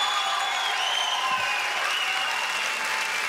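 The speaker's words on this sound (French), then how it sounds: "Applaudissements, mesdames, messieurs." Studio audience applause on a French television talk show as Sophie Favier is welcomed, a full, steady roar of clapping at constant loudness, with thin whistle-like tones riding above it.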